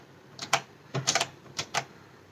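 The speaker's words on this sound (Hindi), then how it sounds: "सो अब मैं कुछ टाइप करके दिखाऊंगी" A quick, close run of sharp clattering keystrokes from an iGear KeyBee wireless retro typewriter-style keyboard, falling in three small clusters with no voices.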